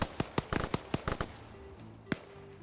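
Grenades going off in a multiplayer shooter video game, a rapid string of sharp, punchy blasts followed by a lone later bang, with a faint tonal hum underneath.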